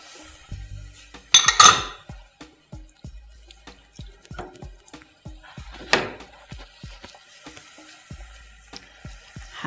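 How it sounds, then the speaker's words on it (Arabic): A spoon clinks and scrapes against a metal cooking pot while tomato pulp and seeds are stirred in, a string of close, sharp taps with a couple of louder clatters. "هقلبه كله مع بعضه"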